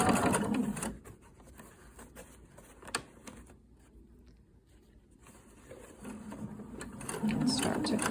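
A sewing machine stitches a fly front zipper below the metal teeth, its fast steady whir loud at the start, easing to a quieter, sparser run in the middle, then building back to full speed near the end.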